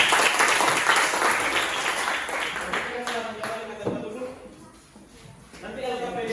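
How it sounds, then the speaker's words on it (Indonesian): Applause and clapping from a classroom group fill the room loudly, a dense wash of hands that gradually thins and fades before rising again near the end. "Beri aplaus untuk kelompok 3."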